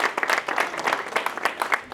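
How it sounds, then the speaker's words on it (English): An audience claps to welcome a speaker at a college talk, a brisk, dense burst of many hands, close and steady for a couple of seconds. "Let's give a round of applause and welcome Hobie."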